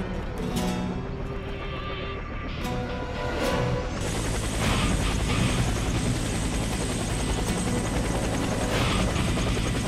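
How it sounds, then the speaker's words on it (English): A helicopter's rotor thrum drones steadily in the game Warface, joined partway through by a louder rush and rumble as it goes down, with brief sharp game-like effects early on. "The helicopter is down."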